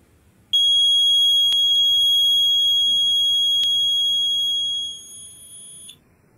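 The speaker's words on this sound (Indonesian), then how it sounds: "alarmnya sudah menyala" Gas sensor alarm sounding during a test of fire and gas sensors, a loud steady piercing electronic tone that holds for about five seconds, then drops in level and cuts off.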